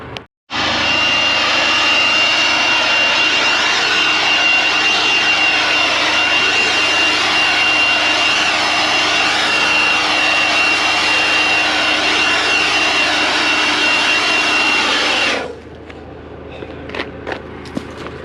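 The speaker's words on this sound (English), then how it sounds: "I got a little blower in my truck." Small portable leaf blower running at steady full throttle for about fifteen seconds, a loud, close, unbroken roar with a high whine, clearing sticks off a road, then cutting off abruptly to faint outdoor sounds.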